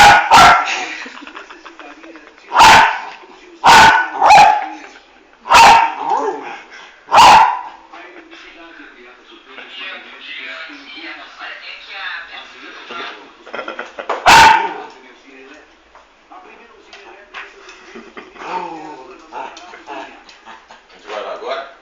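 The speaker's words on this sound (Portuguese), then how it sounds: "Pega, para de latir, pega." A dog barking while trying to catch a ball, several sharp loud barks in an uneven cluster early on and one more later, with a voice talking between them.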